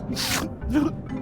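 A character sneezing in The Night of the Rabbit adventure game, a short breathy sneeze burst followed by a voiced sound, close and brief.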